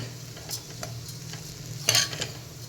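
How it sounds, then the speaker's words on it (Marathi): Semolina (rava) being dry-roasted and stirred in a pan for a porridge-style breakfast, with soft scraping strokes over a faint steady sizzle and one louder scrape near the end, no talk. "दोन मिनटं आपण हा छान परतून घेऊयात"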